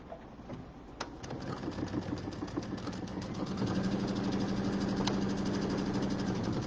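A sewing machine stitching a quilt border runs close and steady with a fast rhythmic needle hum that grows slightly louder partway through, with a few faint clicks and no talking.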